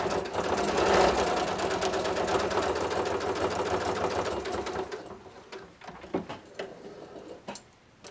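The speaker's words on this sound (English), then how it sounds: "So now I am just going to take my bias tape and sew it to one side of the seam" Sewing machine stitching bias tape onto a seam of a quilted vest, a steady close mechanical whir for about five seconds, then stopping into scattered clicks and fabric handling.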